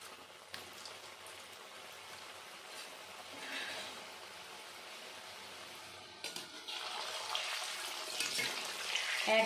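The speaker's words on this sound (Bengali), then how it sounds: "এখন আমি মিষ্টিগুলো ভেজে নেব।" Palm-fruit gulab jamun sweets frying in hot oil over low heat, a soft, steady sizzling hiss that grows louder and fuller toward the end, with no talk.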